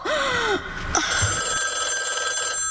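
Old-fashioned telephone bell rings loudly and steadily in a radio drama, a bright metallic trill that continues without pause after a brief gasp-like sound at the start.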